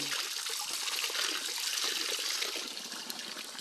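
Spring water on a farm flows and splashes steadily, a continuous bright gushing close by with no talking.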